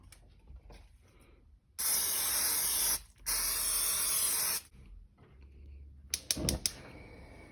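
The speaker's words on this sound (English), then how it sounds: "about a 15-second spray of this onto this pan here" Two long bursts of nonstick cooking spray hissing steadily onto a pan, a second each, followed by a few short spritzes close by, with quiet room noise between.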